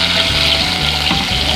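Sea bass fillets frying skin-side in a pan, a loud, steady, close crackling sizzle filling the whole moment without pause.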